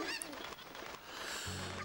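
A cucco chicken in the video game Zelda: Ocarina of Time, clucking and squawking in short bursts over game background sound, moderately loud.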